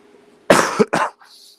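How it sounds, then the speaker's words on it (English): A person with a cold coughs twice in quick succession, close and fairly loud, followed by a brief faint throat sound. "Excuse me if I have to cough."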